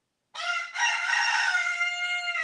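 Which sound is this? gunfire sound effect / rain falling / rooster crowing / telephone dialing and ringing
rooster crowing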